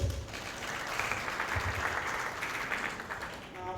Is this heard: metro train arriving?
no